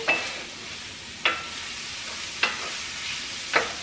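Canned sausage meat sizzles softly in a pan, with a sharp spatula scrape against the pan at regular intervals, four in all, over the constant frying hiss.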